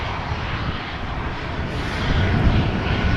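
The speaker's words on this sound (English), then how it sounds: "Going to Fuerteventura. This is TUI flight 601." A TUI airliner, flight 601 bound for Fuerteventura, departs Amsterdam Schiphol with a steady broadband engine roar. The roar swells slightly louder in the second half and has no speech over it.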